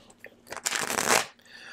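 A deck of playing cards is shuffled once during solo play of the board game Welcome To..., a brief close riffle that builds into a dense rushing flutter and then stops.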